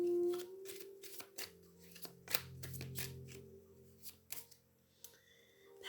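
A deck of tarot cards is shuffled by hand up close, quiet riffling and soft slaps of cards in irregular bursts, with no speech.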